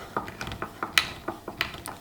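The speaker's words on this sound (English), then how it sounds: "when I put this on the leg and screw it up tight" Screws are driven tight into a wooden router template fixed on a table leg, giving a run of close, crisp ratcheting clicks in an uneven rhythm.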